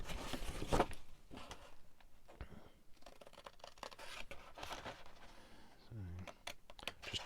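Sharp clicks and taps from a typewriter used to type up lock-up tags, arriving in scattered bursts between rustling and handling noises, close by and moderately loud, with no one talking.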